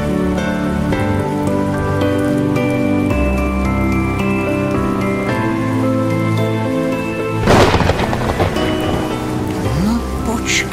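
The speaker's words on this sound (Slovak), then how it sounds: "búrkou a hustým dažďom." A thunderstorm with heavy rain breaks at dawn in a 2005 fairy-tale film. Loud orchestral music plays throughout, and a sharp crack of thunder with a noisy rumble bursts out near the end over steady rain.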